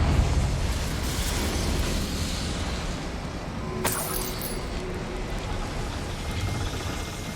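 A Confringo blasting spell explodes in Hogwarts Legacy, a brief sharp burst near the middle rising over a steady rumbling game background, with no voices.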